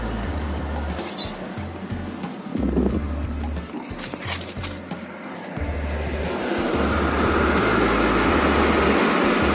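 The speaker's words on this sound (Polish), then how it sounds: "No już widać, wiatrak nam działa." The cab ventilation blower fan of a MAN TGS/TGX/TGA truck starts running after replacement, a steady whirring hum that grows louder and fuller toward the end over handling noises.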